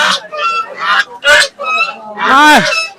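Loud, close honks from a pure-bred domestic goose at a village market, in a series of six or so harsh calls, the last one long and drawn out.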